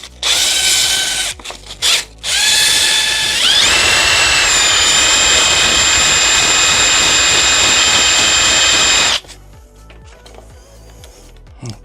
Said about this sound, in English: here I have to grind a little bit more at the back because I hurt it a little bit with the plier